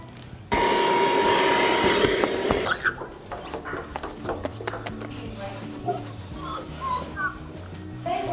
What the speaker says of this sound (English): Bring me the hand vacuum and the little attachment so I can vacuum up this windowsill